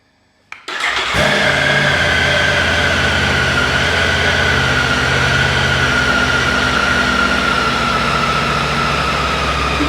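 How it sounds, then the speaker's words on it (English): A Triumph Tiger 900 GT Pro motorcycle engine cranks and fires after a brief quiet moment, then settles into a steady, loud idle close by, running alone with no voices. "If we start the engine"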